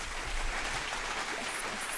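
A short burst of applause, many hands clapping together at a steady level for a couple of seconds, with no talking.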